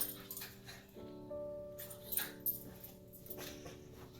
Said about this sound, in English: I'm so sorry if you can hear my dog.